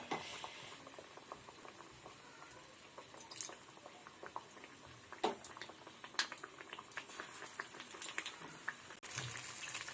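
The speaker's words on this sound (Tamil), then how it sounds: "பஜ்ஜி நல்லா பொரிஞ்சுட்டு வருது" Pineapple bajji, battered pineapple slices, deep-frying in hot oil, with a soft continuous bubbling hiss and scattered crackles and pops, quiet and steady throughout with no talking.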